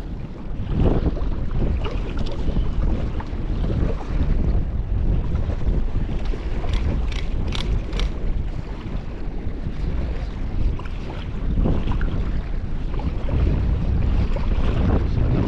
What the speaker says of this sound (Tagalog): Simoy pa lang ng hangin eh, lamig na.